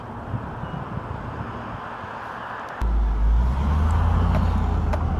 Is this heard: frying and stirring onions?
no